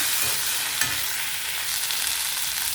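Coconut and mint leaves stirred as they fry in a pan for mint chutney, giving a steady, close sizzle with soft scraping and one sharper knock of the spoon, no voices.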